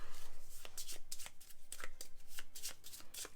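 A deck of board game cards for Lost Ruins of Arnak being shuffled by hand, giving quick repeated riffling bursts that are crisp and close, continuing steadily across the whole stretch.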